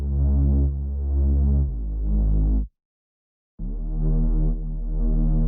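Electronic sub bass from the track: loud, deep sustained notes throb along, cut off by a short silent gap, then return just as heavy with no voices over them.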